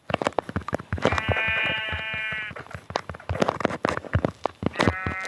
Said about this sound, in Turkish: Evet şimdi koyun öldürelim bir tane.